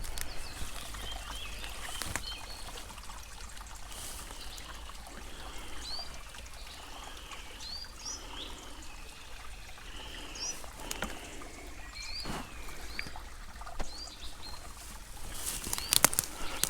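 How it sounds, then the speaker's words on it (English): A small woodland stream trickles and patters beside a hillside camp, a soft continuous babble with faint bird chirps and a few brief knocks nearby. "right next to a little stream which I've used for a water supply."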